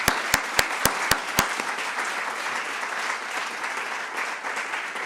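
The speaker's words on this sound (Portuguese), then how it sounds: "Palmas, antes de mais." Applause at an academic lecture in Portugal, opening with a few sharp distinct claps that quickly swell into sustained, even clapping from the audience for several seconds.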